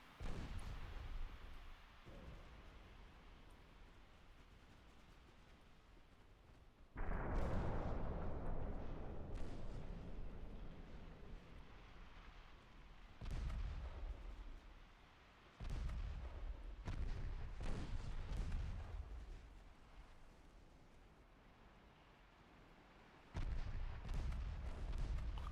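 Naval guns and torpedo impacts boom in the Ultimate Admiral Dreadnoughts video game, with several heavy blasts and rumbling roars rising and fading over a continuous low battle drone.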